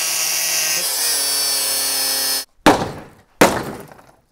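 Old wood breaks as it is torn away, with two loud, sharp cracking snaps after a steady mechanical hum cuts off.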